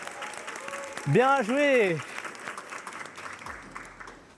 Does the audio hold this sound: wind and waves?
no